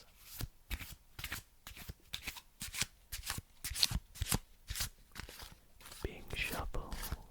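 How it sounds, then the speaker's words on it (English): Playing cards shuffled close up for solitaire, with repeated riffles, bridges and a faro, giving crisp fluttering bursts separated by short pauses, with soft speech under parts of it. "enjoy the sounds of the cards."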